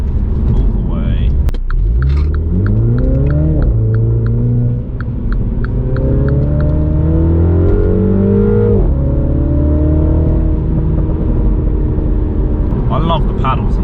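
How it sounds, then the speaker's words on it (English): A MINI John Cooper Works F56 hatchback revs hard through repeated upshifts, its engine note climbing in rising sweeps. Sharp exhaust pops and crackles burst at the gear changes. Loud and close from inside the car, with a voice over the engine. "Bang, fourth gear, listen to that pop."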